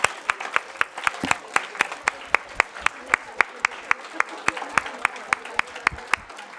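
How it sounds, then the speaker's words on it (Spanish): Applause from a seated audience at a talk on social policy and public goods: scattered hand claps crackle steadily for several seconds at moderate volume, with a few sharper individual claps standing out. "Y nos demos un gran aplauso porque hemos estado aquí."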